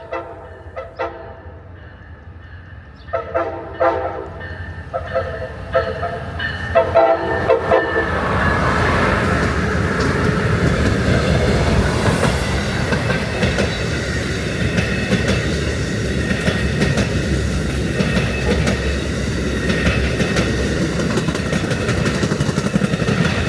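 An Amtrak train led by two ALC-42 Charger locomotives in new Phase 7 paint, with a P42DC, rolls past at Ashland, Virginia: distant rumble grows into a loud, steady roar of wheels and cars passing close, no talk.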